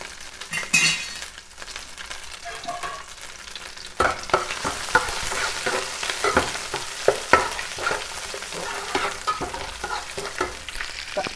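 Ginger and shallot paste, pounded in a stone mortar, frying in a pan for an egg onion curry, with steady sizzling, stirring scrapes and occasional utensil clinks against the pan, close and moderately loud without talk.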